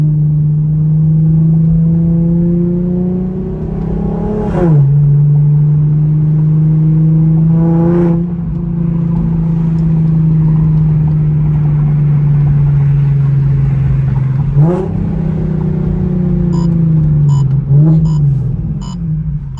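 A catless Infiniti G37 with an exhaust leak idles with a low, raspy drone, then revs sharply several times, each rev a rough, buzzy surge that settles back down.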